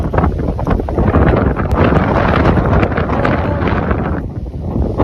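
Strong wind buffets the microphone in steady, loud roaring gusts that fill the whole stretch with no break, on a very windy day outdoors.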